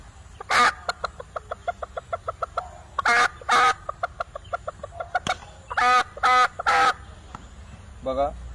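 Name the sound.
man imitating a rooster crowing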